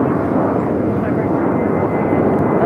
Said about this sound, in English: Yeah, it's taking off to Las Vegas.